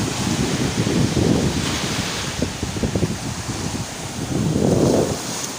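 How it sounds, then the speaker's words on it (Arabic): Sea waves roll onto a quiet, uncrowded beach while strong wind buffets the microphone, with surges of surf swelling and fading in a loud, continuous roar. "واخيرا وصلنا البحر"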